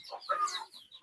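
Chickens cluck in short, soft bursts at a poultry sale, with a ten-day-old chick among the birds; the sound is faint and brief, with no talk.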